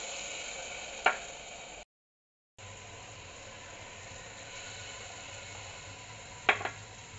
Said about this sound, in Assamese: নহৰু, আদা, পিঁয়াজ, পাঁচফোৰণ দি পেলাই ধুনীয়াকৈ গৰম কৰি তেলখিনি ভালকৈ উতলাই ব্ৰাউন কৰি ল'লোঁ